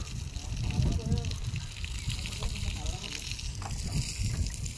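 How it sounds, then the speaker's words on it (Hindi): Water gushes and sloshes steadily into building foundation trenches at a house construction site, a continuous rushing pour heard close by with voices talking over it. "तो गाइस नीवों को पानी पिलाया जा रहा"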